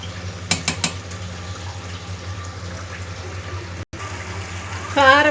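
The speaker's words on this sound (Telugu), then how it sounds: "water పోసానండి, 1 glass water Posa" Water poured from a glass into a pot of chicken curry spiced with chili powder, a steady close wash of splashing. A few sharp clicks come near the start and a brief tone near the end.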